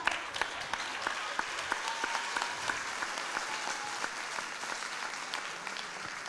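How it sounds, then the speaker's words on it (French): Dense, steady audience applause in a French television comedy show, sustained loud clapping from a large crowd throughout with no letup. "Au fait, vous applaudissez"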